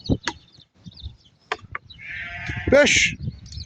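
Sheep and lambs in a large flock bleat in short, separate calls, one drawn-out near bleat standing out, with faint voices in the background.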